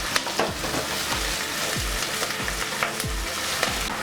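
Onion and green chilli pieces fry with curry leaves in oil for pulao, a loud close sizzle broken by repeated scraping stirs against the pan. No voices are heard.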